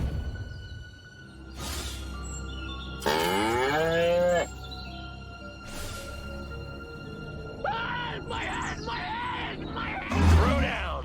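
Cows moo in the Destroy All Humans video game, several drawn-out lowing calls spread across the scene, some loud and close, over a steady game background with brief crashes.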